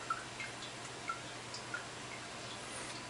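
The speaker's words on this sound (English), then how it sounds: "already you can hear it filtering through the filters inside and dripping down inside the filter" Filtered water drips inside a stainless steel Berkey gravity water filter, a few faint, sparse drops plinking over a quiet background hiss.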